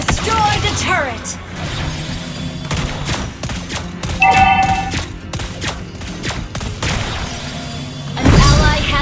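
Lesley's gunfire in the mobile game Mobile Legends comes as rapid bursts of shots and impacts under busy game effects and announcer voices, loud throughout with a heavier burst near the end.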